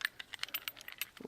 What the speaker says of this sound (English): I brought with me this little Gerber handsaw, and it just folds out really quickly